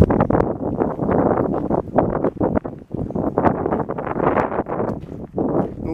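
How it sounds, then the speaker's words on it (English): Wind blowing outdoors in a park as snow melts, gusting and buffeting the microphone in an uneven, continuous rumble throughout. "The wind's still coming from the wrong direction"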